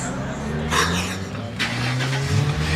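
A car doing a burnout at a car meet: engine roar with revving surges and a hiss of tire noise, loud and close, with people talking over it.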